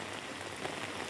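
Heavy rain pours steadily onto a Hong Kong street, a dense, continuous hiss of drops hitting pavement and surfaces, close and enveloping, with no voices over it.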